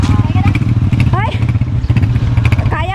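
A motorcycle engine idles and revs close by at a resort in Jamindan, Capiz, with a steady low rumble running through and people talking over it.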